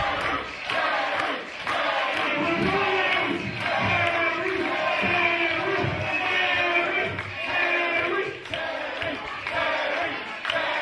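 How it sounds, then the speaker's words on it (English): Wrestling fans in an arena chant a wrestler's name, Terry, in a loud, rhythmic two-beat pattern that repeats steadily, with the crowd roaring between chants. "Terry. Terry. Terry, as all these fans are chanting."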